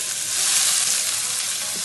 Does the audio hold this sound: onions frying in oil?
yes